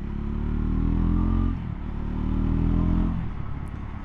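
A Triumph Scrambler 400X motorcycle engine drones loud and close while riding, rising and easing off twice as the throttle changes, with no voices.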